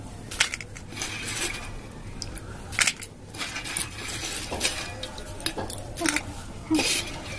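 Chickpeas (chana) being mixed with gondhoraj lemon pieces in a bowl, producing close, irregular squelching and crunching bursts with occasional utensil clinks, interspersed over several seconds.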